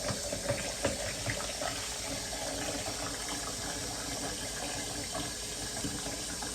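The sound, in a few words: filling a container with tap water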